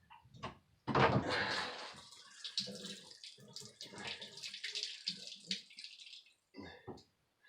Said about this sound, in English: This is where we gotta get the water to run out